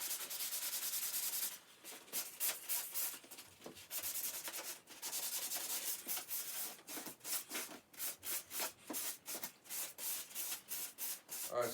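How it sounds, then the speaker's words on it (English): Sanding by hand around the edges of a fiberglass body repair made with a 3M fiber compound kit, a steady close scratchy rubbing that breaks into quick rhythmic back-and-forth strokes toward the end, with no talking. "So we're going to go ahead and sand around the edges to make everything smooth."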